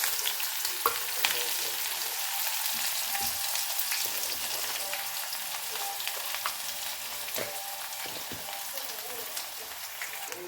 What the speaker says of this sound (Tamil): வெங்காயம் வந்து நல்லா வதங்கிடுச்சு.